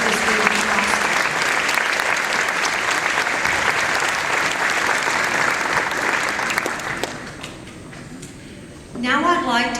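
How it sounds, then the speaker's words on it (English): Auditorium audience applauding parents and family members at a ceremony, a dense sustained wash of clapping that fades near the end before a voice resumes speaking. "ask everyone in the auditorium to give the parents and the family members of these young men and women a big round of applause"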